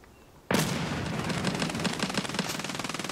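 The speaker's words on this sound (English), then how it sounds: "Oh, that's a grenade." A grenade goes off in the game Escape From Tarkov: a sudden loud blast, then a sustained harsh rattle that turns into rapid rhythmic automatic gunfire near the end.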